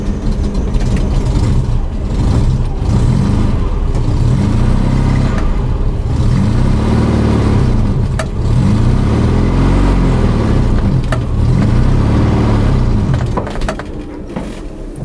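Classic VW Super Beetle engine revving in repeated swells while reversing, loud and close, with rising and falling surges of air-cooled rumble before easing off near the end.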